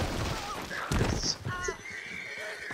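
A horse in Red Dead Redemption 2 gives a sharp, close whinny, with a brief clip-clop of hooves and someone talking around it.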